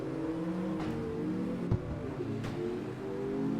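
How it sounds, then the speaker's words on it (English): A car engine in the racing game CarX Street hums steadily with layered harmonic drone, a brief thump partway through, holding a sustained mid-level rev with no talking. "Car sounds okay."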